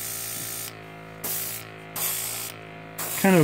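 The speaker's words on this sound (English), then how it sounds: "Short burst, short burst. Now, I'm keeping my pot on my sprayer" An airbrush sprayer spraying primer paint onto miniature figures gives a steady hiss that cuts in and out in short bursts against a constant hum, close and moderately loud.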